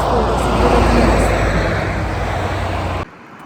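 Lorries roar past a cyclist on a busy road near Kretinga, a close, loud, continuous rush of heavy traffic that cuts off abruptly near the end.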